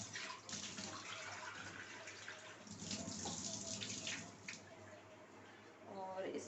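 Water poured into a vessel for a morning offering after bathing, a soft steady splashing stream at close range, faint and continuous with brief surges.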